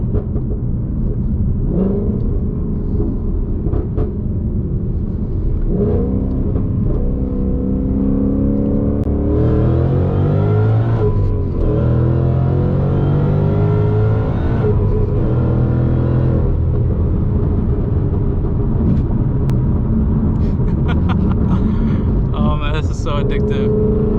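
A supercharged Ford Mustang makes a wide-open-throttle pull, heard from inside the cabin as a deep, loud engine drone whose pitch climbs and swells before easing off, with someone talking over it.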